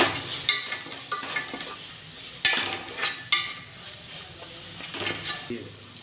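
Coriander leaves and mint added to ginger garlic paste frying in a pot, with soft sizzling and a few sharp clanks and scrapes of a metal spoon stirring against the vessel.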